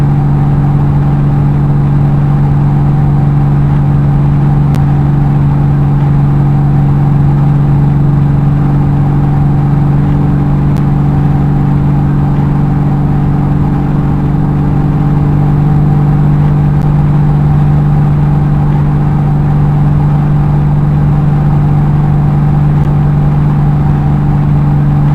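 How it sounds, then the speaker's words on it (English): Race safety car engine heard from onboard during a Kyoto 150 heat race, a loud steady droning hum with constant pitch and no letup, no talk over it. "Safety car in this lap, we stay on board with its safety car."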